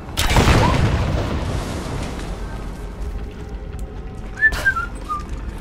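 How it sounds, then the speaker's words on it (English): A single loud explosion in the Rise of the Tomb Raider video game bursts at the start and rumbles away, followed by quieter debris sounds and a few faint whistling tones near the end. "I have caused an explosion that killed people and it was still counted as a stealth kill"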